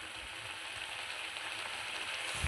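Pineapple chutney cooks down in a pan, a faint, even sizzle with soft bubbling that holds steady throughout, with a light stir near the end.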